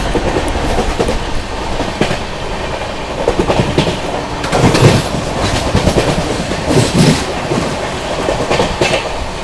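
Passenger train overtaking on the railway during a journey on the New Delhi–Gaya Mahabodhi Express, heard as a steady loud rumble with rhythmic clickety-clack of wheels over rail joints, swelling briefly as the other train passes close by.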